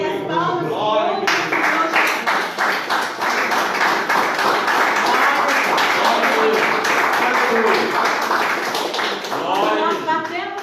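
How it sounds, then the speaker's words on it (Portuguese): A church congregation claps together in a loud, steady, rhythmic beat that fills the room for several seconds, with voices faintly underneath. "nós batemos as palmas, é porque nós estamos nos alegrando"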